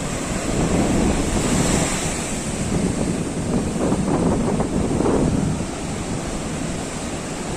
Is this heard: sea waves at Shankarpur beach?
yes